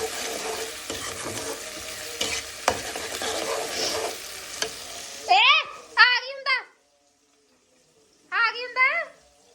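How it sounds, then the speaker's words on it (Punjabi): A tempering for a vegetable dish sizzles steadily in a pan with light stirring scrapes for about five seconds, then the sizzle drops away as voices, including a child's, take over. "ਤੜਕਾ ਲੱਗ ਜਵੇ ਇਹ ਸਬਜ਼ੀ ਬਣ ਜਾਣੀ ਆ"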